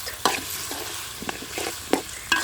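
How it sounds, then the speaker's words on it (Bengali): Fish pieces with turmeric being stirred in a pan, heard as several sharp, close scraping clatters of a spatula spaced over a low, soft sizzle, with no talking. "আবার ভালো করে নেড়ে ছেড়ে এগুলোকে মিশিয়ে নিতে হবে"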